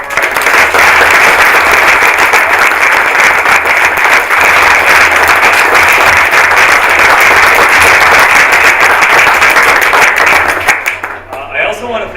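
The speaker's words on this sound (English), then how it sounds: "Can we have a round of applause, please?" An audience at a talk at a brewery claps loudly and steadily for about ten seconds, a dense close roar of many hands that drops away at the end as a voice starts.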